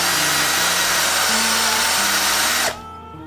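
A power drill bores a hole into a wooden canvasback duck decoy, running as a steady, loud whine with pitch shifts as the bit works the wood, then stopping abruptly near the end, leaving a quieter hum.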